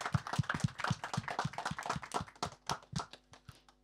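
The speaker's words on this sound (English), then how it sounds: "shall we give a warm round of applause to all of our guests" A small audience at a talk on designing cities claps for the guests, with distinct, close hand claps in an uneven patter that thins out toward the end.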